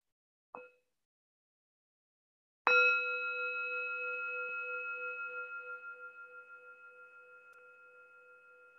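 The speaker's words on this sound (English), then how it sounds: "I'm just going to ring a bell at the start and the end of the meditation" A meditation bell gives one short, quiet tap, then after a pause a clear strike that rings out with a long, steady, slowly fading pure tone in an otherwise silent room.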